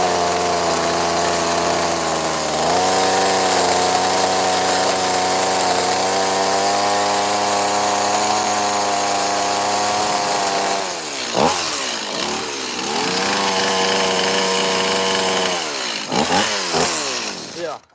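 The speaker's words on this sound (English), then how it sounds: "that's about as good as I can get that guy with the chainsaw, the little one" A small chainsaw carves a great horned owl into wood, its engine buzzing loud and close in a steady drone, then dipping and revving in several uneven bursts near the end.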